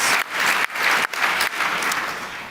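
Audience applause fills a large hall at the AJC Global Forum, a dense continuous clapping from a big crowd, loud and close, with brief dips in intensity and no talk over it.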